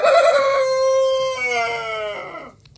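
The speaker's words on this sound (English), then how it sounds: "That's a very weird crow." A rooster gives one long, loud, close crow with an oddly broken, wavering ending. The crow stretches over more than two seconds and then stops abruptly.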